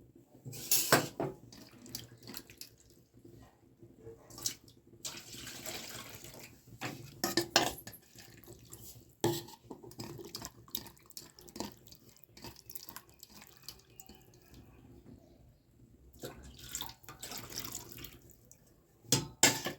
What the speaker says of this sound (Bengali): মাছটাকে কিন্তু আর একবার 2-3 বার মানে ধুয়ে নিতে হবে, কেন মাছের মধ্যে অনেক বালি থাকে।